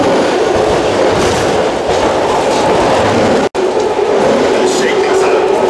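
Onboard Caltrain 431 passenger train on a ride toward Millbrae, a loud continuous rumble of wheels and motion noise with a brief dropout midway.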